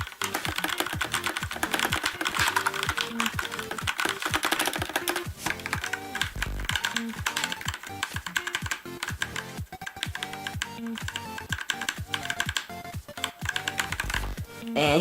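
Rapid gaming-style keystrokes on a GearHead 92-key mechanical keyboard with Kailh Red linear switches: repeated presses and mashing of a few keys in a busy, close clatter that keeps going without a break.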